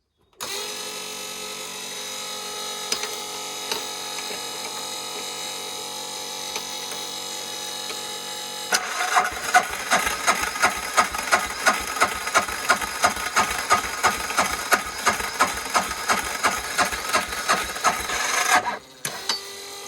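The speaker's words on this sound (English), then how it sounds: "Just got to bleed the fuel line, and hopefully she'll fire up and doesn't run away." A Polaris diesel engine with a runaway fault cranks while trying to start, its fuel line just bled. A steady hum gives way to a loud, fast, regular chugging of compression pulses that stops abruptly near the end.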